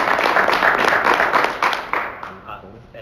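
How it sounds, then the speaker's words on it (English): A crowd at a meeting in Reno, Nevada claps in applause, steady and fairly close, fading out toward the end. "So I would like to give them a round of applause."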